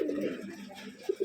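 Pigeons coo in a loft: a short low cooing phrase followed by two brief soft coos, close by.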